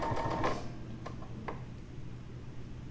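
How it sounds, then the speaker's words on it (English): A sewing machine stitches quilt fabric along a marked line on a background piece, with a quick burst of rapid mechanical ticking up front, then a few faint isolated clicks and a soft hum. "You're going to sew this to one corner of your background fabric"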